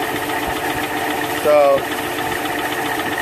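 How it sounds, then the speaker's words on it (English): A badly damaged, hydrolocked engine runs with a steady knock from inside it, a continuous rough mechanical drone with a brief louder surge partway through, and someone says a single word over it. "the noise, the knock, is coming from within the engine"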